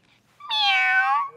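A voice imitates a cat with one loud, close, drawn-out meow, alone and clear against silence.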